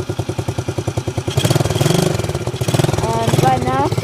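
Quad bike engine catching and settling into idle, first a steady rhythmic cranking pulse, then a loud, close, mid-pitched chugging idle with a revving whine near the end.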